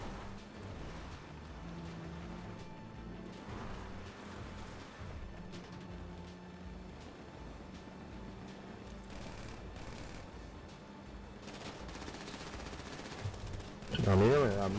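Machine gun fire in GTA V Online, rapid gunfire bursts running steadily under game noise, with a louder, denser burst near the end; voices talk over it at times.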